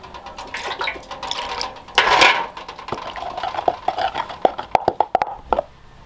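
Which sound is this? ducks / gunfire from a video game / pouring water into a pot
pouring water into a pot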